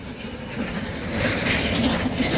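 Road traffic near a bridge at sunrise forms a continuous broadband rumble and hiss of passing vehicles, growing slightly louder in the second half, with no voices.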